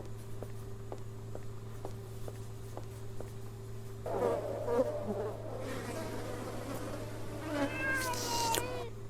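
Insect buzzing in the video game Memoranda, light repeated ticks over a steady low drone, then a warbling, meow-like creature call rises and falls in the later part.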